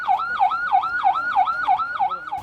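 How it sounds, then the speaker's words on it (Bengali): An airport fire alarm siren at Chattogram Airport wails loudly in a fast, even rising-and-falling cycle, about seven sweeps repeating with no other sounds. "বেজে উঠল সাইরেন"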